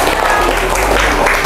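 Group of children at an Islamic boarding school learning game clapping loudly and steadily for a correct answer, a dense continuous patter with some voices mixed in.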